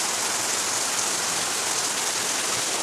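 Heavy rain pouring steadily outdoors, a dense, even, loud hiss of drops on surfaces throughout with no other sound.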